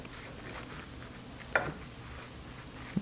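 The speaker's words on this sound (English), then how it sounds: "And we stir everything together in the casserole dish." Spaghetti squash and Parmesan being stirred together in a casserole dish: soft, faint scraping over a quiet room, with one sharper knock of the spoon against the dish partway through.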